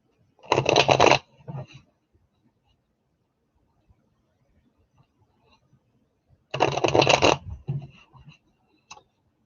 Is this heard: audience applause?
no